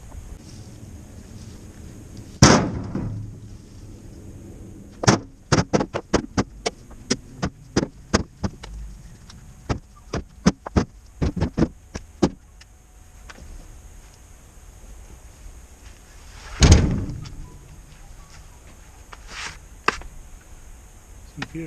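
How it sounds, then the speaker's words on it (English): Firewood logs being loaded into a trailer outdoors: a rapid cluster of sharp wooden knocks and clunks in the middle, with a few heavier isolated thuds before and after, over a constant low hum. "we'll get all these loaded into the trailer"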